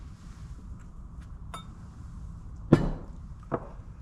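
Metal parts clink and knock as planet gears and a thrust bearing are removed from a leaking reduction drive: a few sharp, close taps, one louder clank, then a softer knock over a quiet background.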